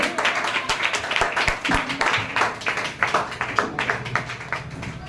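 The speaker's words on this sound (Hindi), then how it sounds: "तो एक बार जोरदार ताली विजेंद्र सर के लिए" Audience applause for Vijendra sir at the opening of a Herbalife nutrition club in Thawe, a dense crowd of clapping hands with sharp individual claps, steady and fairly close for several seconds.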